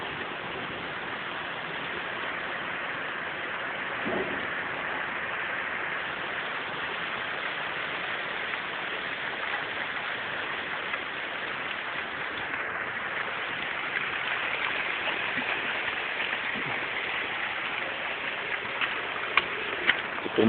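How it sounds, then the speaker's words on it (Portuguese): Steady rain pours outdoors during a 2013 storm beside an industrial plant, a dense continuous hiss that holds evenly throughout with faint rumbling underneath. "Está escutando o barulho da chuva?"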